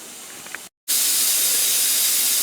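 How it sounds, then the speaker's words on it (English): Steady, loud hiss of steam venting continuously from a pressure canner while canning beef, briefly cut off for a moment before resuming at full strength. "we've got that steady stream of steam"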